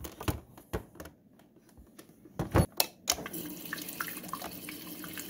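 Water running from a Samsung RS25H5000SR refrigerator dispenser into a kettle after a filter change, a continuous close splashing stream with a few louder sputters and knocks early on.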